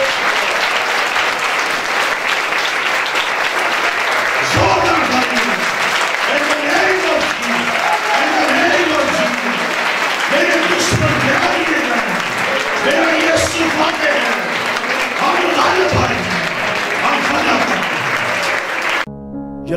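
A church congregation at an Urdu-language sermon applauds for Jesus, with loud, sustained clapping that continues for nearly twenty seconds and faint crowd voices mixed in, before stopping abruptly.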